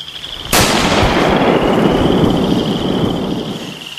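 A single loud rifle shot cracks out close by during a bear hunt, followed by a long rumbling echo that rolls away and fades over several seconds.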